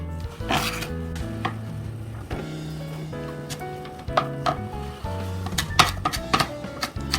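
Crisp knife strokes slicing through vegetables into half-moon pieces on a cutting board, an uneven run of close, sharp taps with brief pauses between bursts, prepared for a seasoned cockle salad.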